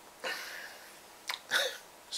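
A short burp after drinking a Thomas Cooper's Selection homebrew pilsner, with a soft vocal gulp first and then a couple of brief throaty bursts, close and fairly quiet.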